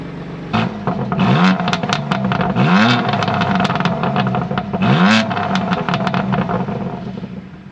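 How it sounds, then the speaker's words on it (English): A 2020 BMW M2 Competition (F87) barks to life with a sharp exhaust startup, then blips its engine in several quick loud revs that rise and fall, close and alone, settling into a rumbling idle. "we're just gonna get like a quick exhaust startup and like some revs"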